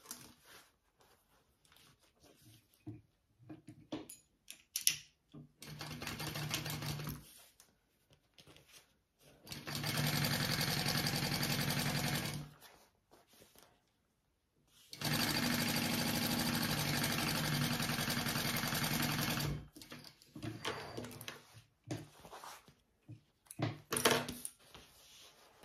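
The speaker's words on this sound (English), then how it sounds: "And sew that on." A sewing machine stitches bag panels together for a crossbody bag, running in two steady bursts of several seconds each, with quieter handling noises between and around them and no talking.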